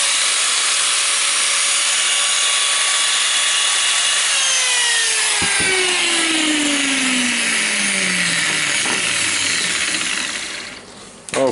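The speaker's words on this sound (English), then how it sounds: "now the grinder is turned off, plugging it in and testing it. Yep. We have it working." A well-used Makita angle grinder runs steadily after a simple fault repair, a loud continuous whine with descending tonal sweeps as the motor spins down, then cutting off near the end.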